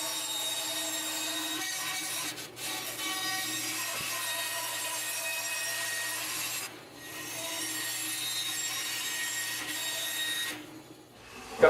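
A power saw cuts plywood pieces for a homemade saw table, giving a steady, continuous rasping whine with brief dips between passes.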